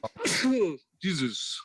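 A single sharp human sneeze bursts out close by, followed by a short spoken exclamation.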